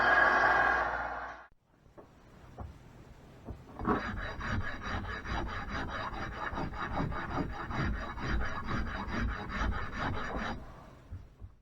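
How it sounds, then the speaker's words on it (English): A wood rasp files a steel belt axe head in quick, repeated rough strokes, rasping loudly and rhythmically for several seconds after a brief noisy start and a short pause, with no speech. "clean it up with a wood rasp"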